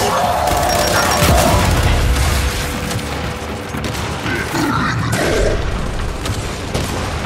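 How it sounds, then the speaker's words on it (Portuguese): Fragmentation grenade blast in the shooter Gears 5 Hivebusters, a loud booming burst amid rattling gunfire and mechanical clatter, with a voice speaking briefly. "granada de fragmentação"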